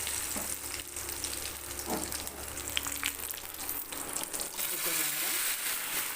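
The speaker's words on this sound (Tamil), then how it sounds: "வரமிளகாயும் போட்டுக்கலாம் போட்டு அப்படியே லைட்டாக ஒரு வதக்கு வதக்கிக்கலாம் எடுத்து தாளிச்சுக்கலாம்" Dried red chillies crackle and sizzle steadily in hot oil as they are tempered for an okra tamarind curry, a continuous close frying hiss with faint stirring.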